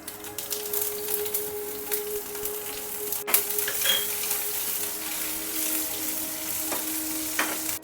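Curry leaves and chillies frying in oil with mustard seeds for pumpkin sabzi, a bright crackling sizzle with scattered pops and a few scraping stirs, close and steady.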